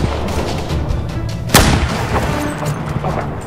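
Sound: gunfire from a video game

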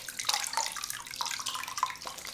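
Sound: washing face with flannel in warm bath water

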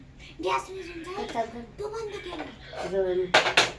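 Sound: plates being put in for washing

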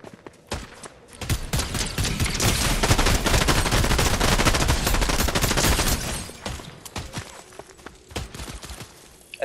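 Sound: gunfire in the Fortnite video game

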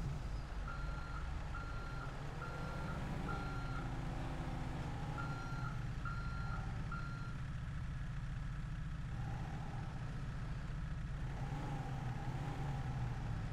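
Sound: trucks reversing and engines in GTA 5 video game

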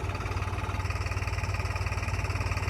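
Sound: tractor engine running

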